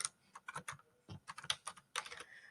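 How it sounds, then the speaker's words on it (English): Typing on a computer keyboard, close and clear: quick irregular bursts of key clicks in short clusters with brief pauses between, no voices. "So I'm going ahead and typing in"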